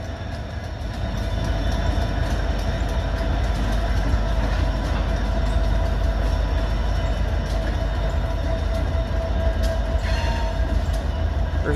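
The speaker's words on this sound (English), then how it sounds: "Got a train right here in the Newark yard." Train rolling through the Newark rail yard in Ohio, with a steady loud rumble and a clattering, screeching hum that builds after the first second and carries on unbroken.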